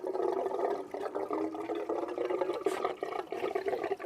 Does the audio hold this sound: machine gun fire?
no